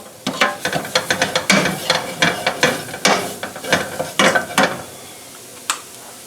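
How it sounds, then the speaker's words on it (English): Flour being cooked in a pan for French onion chicken, heard as rapid repeated scraping and stirring strokes with a light sizzle, close and rhythmic before trailing off near the end. "Right now we're just cooking the raw taste out of the flour."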